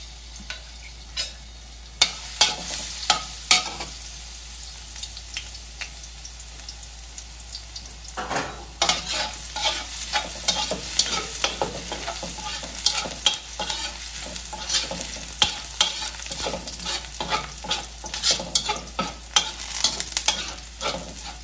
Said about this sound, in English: first saute the garlic